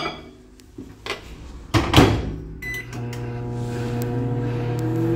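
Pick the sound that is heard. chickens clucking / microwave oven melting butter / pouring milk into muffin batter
microwave oven melting butter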